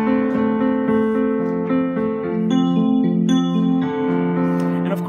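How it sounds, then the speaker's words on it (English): Yamaha Montage keyboard sustaining chords whose acoustic piano tone gradually morphs into an FM synthesizer sound, with steady, rich layered notes and several chord changes over about five seconds, no voices present. "So I can have an acoustic sound like this acoustic piano and morph to the FM synthesizer."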